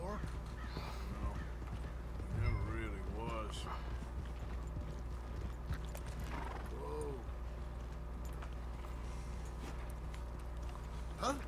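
Horse hooves clip-clopping with several whinnies and neighs in the Red Dead Redemption 2 video game, set against a low steady background hum, with game characters talking over parts of it.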